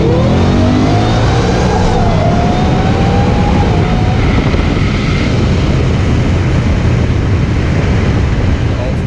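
A supercharged Whipple 2018 Ford Mustang GT engine roars continuously as it accelerates hard, loud and close, with a rising supercharger whine over a deep rumble throughout.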